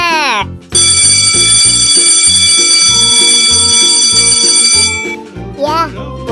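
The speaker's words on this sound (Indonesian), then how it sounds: "udah bel sekolah nih teman-teman" An electric school bell rings loudly and steadily for about four seconds with a bright metallic tone while children's voices chatter underneath, then it cuts off and talking continues.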